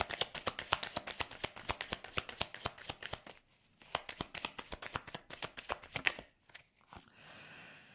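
Oracle cards are shuffled by hand in a quick, even run of crisp riffling flicks, close and fairly quiet, pausing briefly before a final few flicks and then a soft settling rustle, no talking.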